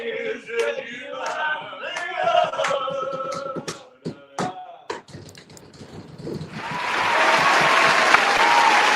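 Audience applause and cheering swell up at a live request show, following a stretch of singing with music; the clapping builds loud and dense in the last few seconds.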